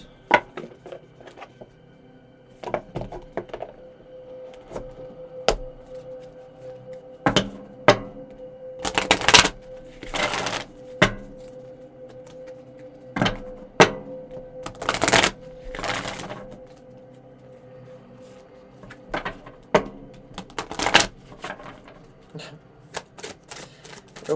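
Cards are shuffled repeatedly, with quick riffling bursts and clattering snaps recurring over a soft background, close and moderately loud.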